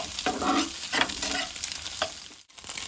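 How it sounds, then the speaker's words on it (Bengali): An egg and onion filling being stirred as it fries in a pan, with steady scraping strokes over a continuous loud sizzle, close up and without voices. "নাড়তে নাড়তে দেখবে এরকম একটু শুকিয়ে আসবে, তখন পেঁয়াজের সঙ্গে ভালো করে মিশিয়ে নিতে হবে ডিমটা"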